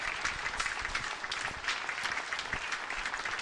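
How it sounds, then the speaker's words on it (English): Studio audience at a live comedy talk show bursting into sustained applause for a 21-year-old guest from Minnesota, dense steady clapping with a few faint voices underneath. "Give her a round of applause."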